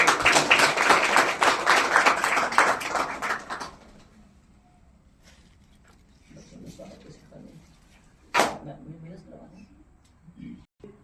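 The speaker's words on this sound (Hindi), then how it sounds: "उन 2 बच्चों के लिए जो 80 प्लस हैं, उनके लिए जोरदार तालियां आप बता दीजिए एक बार।" A school audience gives hearty applause for two high-scoring students at an Indian inter college, a loud, dense burst of clapping lasting about four seconds that cuts off into quiet room noise and a few scattered sounds.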